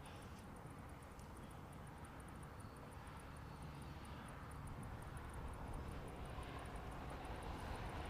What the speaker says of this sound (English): It's a 400 freighter, Simon Lysang.